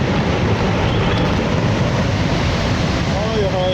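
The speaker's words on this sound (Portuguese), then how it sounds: "a água desceu montanha abaixo em uma forte corrente" Glacial floodwater rushes down a mountainside in Pakistan as a loud, dense, continuous roar of turbulent water, steady throughout with no breaks.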